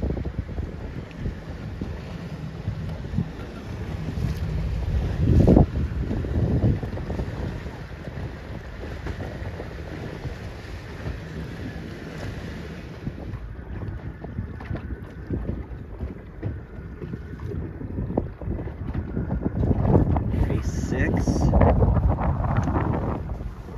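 Steady wind roars across the microphone aboard a C420 sailboat racing upwind in a regatta, with water rushing against the hull, a couple of louder gusts and spray swells, and no talk.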